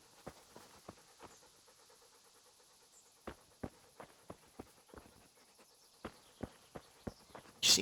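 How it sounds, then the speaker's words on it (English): Tinker the dog in Kingdom Come: Deliverance pads along with soft panting and a string of sharp, irregular footfall taps, some close and distinct, over a faint, quiet background with no talking. "So I have to follow the dog."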